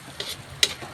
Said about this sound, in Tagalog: hinahalo ko lang siya maigi para ma-absorb talaga ng bagoong